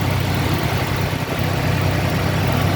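A 1991 Toyota DLX extra cab pickup's engine idles steadily, a continuous even rumble heard close up with no talking.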